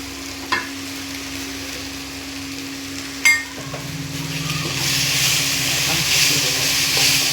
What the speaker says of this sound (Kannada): ಈಗ ನೋಡ್ರಿ ಎಲ್ಲ ಎಣ್ಣೆ ಒಳಗೆ ಫ್ರೈ ಆಗೈತ್ರಿ